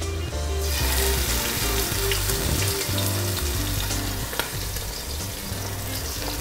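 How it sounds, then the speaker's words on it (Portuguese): Beef ribs sizzle loudly and continuously in a hot pan, a dense, close crackle of frying with occasional pops and faint stirring knocks underneath. "Nossa costela na panela."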